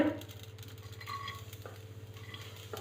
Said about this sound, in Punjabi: ਆਪਾਂ ਇਹਨਾਂ ਨੂੰ ਚੰਗੀ ਤਰ੍ਹਾਂ ਭੁੰਨਾਗੇ